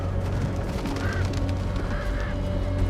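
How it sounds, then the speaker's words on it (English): Harsh calls from crows in a game scene, a few squawks rising over a dense, rumbling ambient background. "Crows."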